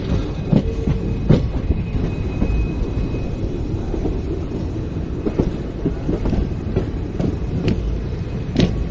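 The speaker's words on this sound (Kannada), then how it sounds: "ನಮ್ಮ ಟ್ರೈನ್ ಇಲ್ಲಿ ಶಾರ್ಪ್ ಟರ್ನ್ ಐತ್ರಿ" Shivamogga–Mysuru Express train rolling through a sharp curve, a loud continuous rumble with repeated wheel clicks and thumps and a faint thin squeal, heard from on board.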